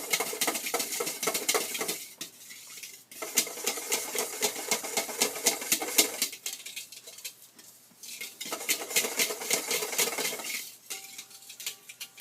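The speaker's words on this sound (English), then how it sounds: "I usually like to whisk these in first" A whisk clatters rapidly against the sides of a bowl of cold process soap batter in fast, steady bursts, pausing briefly between rounds of vigorous stirring.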